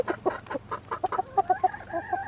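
Chickens cluck close by in a quick, uneven run of short clucks, rising into longer, drawn-out calls toward the end.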